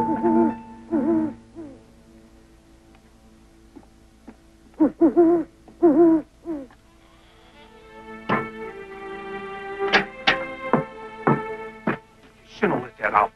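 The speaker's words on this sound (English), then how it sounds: "What kind of owl is that anyway? Just an old barn owl." A barn owl in a 1979 animated telling of The Legend of Sleepy Hollow gives a series of hoots, starting with low tonal calls and moving to louder, sharper bursts with a tuneful musical score running underneath.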